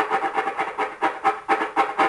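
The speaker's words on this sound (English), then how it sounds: "you suddenly hear this voice or the sound of my rubbing fingers, because they produce supersonic frequencies." Fingers rubbing together, picked up by a steampunk-styled ultrasonic bat detector and turned into a rapid, rhythmic crackling burst pattern. The pulses repeat several times a second at close range, with no voices.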